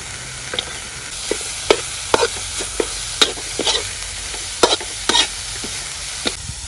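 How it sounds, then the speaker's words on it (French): Shrimp and carrot are stirred in a frying pan over a low sizzle, with a utensil scraping and knocking irregularly about a dozen times, close and without speech. "maintenant on mélange avec la carotte"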